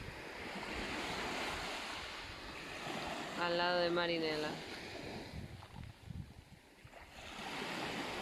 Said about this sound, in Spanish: Estamos en las playas de la Reserva Natural Estatal de Metaponto